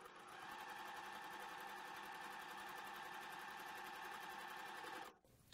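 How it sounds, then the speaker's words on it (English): Sewing machine stitching pieced quilt fabric, a steady fast whirring run that lasts about five seconds and then stops abruptly. It sounds close and alone, with no voices. "And then we will sew that through."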